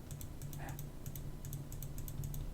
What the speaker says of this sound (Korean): 컨트롤 A, 컨트롤 C, 컨트롤 V 이렇게 자, 이렇게 누르고 제가 엔터를 치고